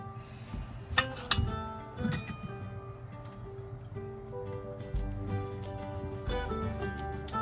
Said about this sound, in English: I'm just gonna use the same fork to mix up the butter because it's all going in the same thing.